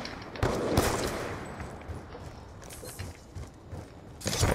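Gunfire in the video game Black Ops 2 comes as dense, loud bursts of shots over a busy mechanical game din. The firing is sharpest at the start and swells again at the end. No one speaks.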